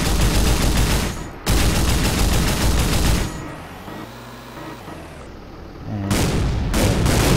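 Vehicle weapons fire in an Unreal Engine 4 drivable vehicle pack, loud sustained bursts of gunfire in two long stretches, a quieter rumbling lull, then more rapid loud firing at the end.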